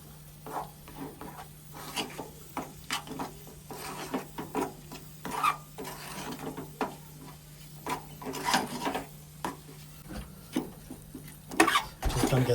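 Garlic pickle ingredients with chilli powder and salt are mixed in a bowl, producing repeated close rubbing and scraping strokes in an uneven rhythm, with no talk.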